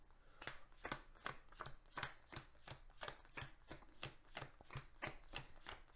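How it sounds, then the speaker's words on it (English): Cards from a KeyForge deck being shuffled at a table, a rapid series of crisp riffling snaps repeating about every half second, fairly quiet and close, with no talking. "I have to shuffle my deck"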